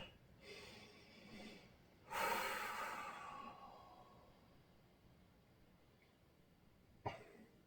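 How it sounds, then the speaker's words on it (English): Deep breaths during a yoga stretch session, a few slow audible inhales and exhales close by, soft and breathy, with one longer exhale and a brief sharp sniff near the end. "Take a nice deep breath."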